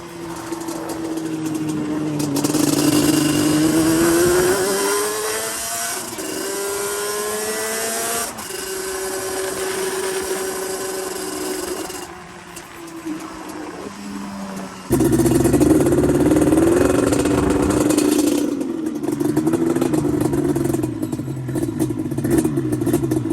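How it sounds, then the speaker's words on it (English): A Yamaha Banshee two-stroke ATV with a Toomey exhaust idles with a low, soft burble, then revs up and down in rising, falling waves, loud and close throughout, with a brief drop midway. "So you can tell by the idle, it sounds like it's a little bit low and a little bit soft sounding."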